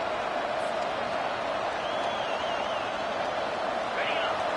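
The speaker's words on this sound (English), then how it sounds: "The roar of the crowd trying to fuel this defense to keep them pinned in their own end." Steady, loud stadium crowd roar from a college football video game fills the whole stretch, a dense continuous wash of cheering with faint commentary-like voices underneath.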